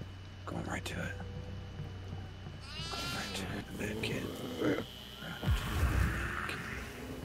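A goat in the horror video game Devour gives a short, wavering bleat amid game noise, with people talking over the scene and a low rumble underneath.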